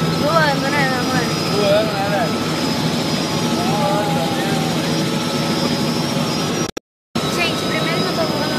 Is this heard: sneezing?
no